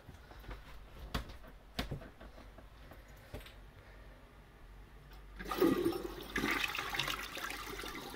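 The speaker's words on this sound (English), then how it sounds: "we'll do a dry bowl flush here." A 1987 Murray Savoy toilet flushes with a dry bowl, starting with faint clicks of the handle before a sudden rush of water swells and roars steadily through the final seconds, close and alone.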